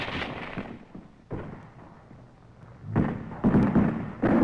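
Scattered gunfire from a 1945 Pacific combat newsreel, with troops taking sniper fire on a hillside against entrenched Japanese positions: a few dull distant thuds and cracks spread over several seconds, growing denser and louder toward the end.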